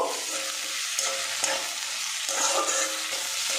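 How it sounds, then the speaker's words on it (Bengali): Onion, potato and ginger-garlic paste stir-fried in a pan for a cabbage and chicken curry, giving a steady loud sizzle broken by repeated scraping stirs, close and with no voices. "এক চামচ পরিমাণে আদা রসুন পেস্ট দিয়ে দেব আরও কিছুক্ষণ নাড়াচাড়া করে ভেজে নেব"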